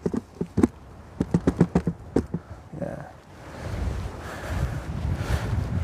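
Wind gusting on Coombestone Tor, a rough, steady rush that swells into the microphone after a series of sharp knocks near the start.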